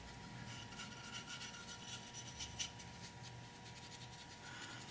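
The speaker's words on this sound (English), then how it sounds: "I'm going to rub it off with a Q-tip" A Q-tip rubbing matte paint off a model signal box, a faint, steady scratchy rubbing with soft repeated strokes, close and quiet, with no talking.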